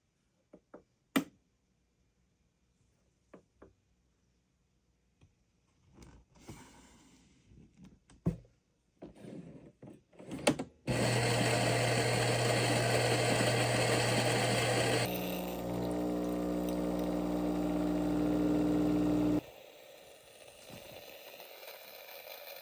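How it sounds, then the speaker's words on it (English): A Philips Baristina espresso machine brews an espresso with a boost dose: faint clicks and handling first, then a loud steady pump hum and whir that shifts pitch midway and stops, with a quieter mechanical tail. "We'll go with an espresso with the boost dose in the middle."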